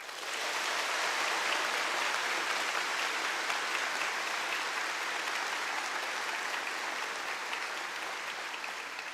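A crowd claps continuously at an oath-taking ceremony for new lawyers, a broad, even roar of hands that starts abruptly and holds steady throughout.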